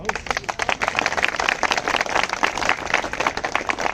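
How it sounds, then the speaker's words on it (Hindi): An audience claps in a dense, uneven patter of hand claps, moderately loud and sustained, with no single clear beat and a light crowd murmur underneath. "अगर बेहद जरूरी है तो ताली भी बहुत कमजोर है"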